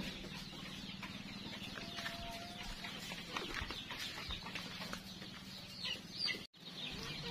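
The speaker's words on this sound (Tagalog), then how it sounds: "So ito rin yung mga alaga nating manok." Pet chickens cluck and murmur softly in a yard on a small farm, the calls scattered and faint against quiet ambient noise.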